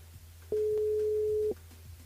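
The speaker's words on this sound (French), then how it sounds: "Il appelle Hubert, du côté de Saint-Leu." A single steady telephone ringback tone sounds for about a second over faint background hum as a radio show dials out to a listener.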